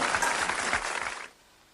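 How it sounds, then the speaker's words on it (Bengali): A short burst of crowd applause, dense clapping that fades out after about a second, leaving near quiet. "হাততালি"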